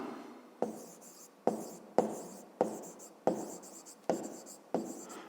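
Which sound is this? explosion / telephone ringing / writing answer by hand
writing answer by hand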